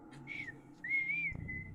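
A voice imitates a whistle during a fantasy tabletop role-playing session, producing two rising, wavering whistled tones close by, separated by a short gap, with faint room sound beneath.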